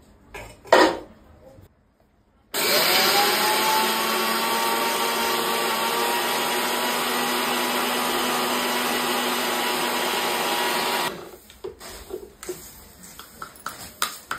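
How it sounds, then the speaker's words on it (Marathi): A kitchen mixer grinder grinds sugar into powdered sugar: a loud, steady whirring roar starts abruptly, holds for about eight seconds, then cuts off, with scattered quieter household noises before and after. "हे आधी मिक्सरला बारीक करून घेते म्हणजे पिठी साखर तर बनेल"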